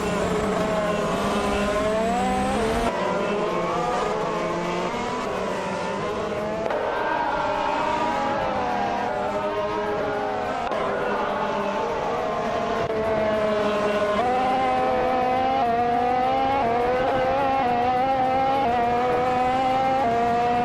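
Race cars accelerating off the line in a racing game, engines droning and rising in pitch as several cars rev together, steady and loud throughout with a shift in tone just under three seconds in.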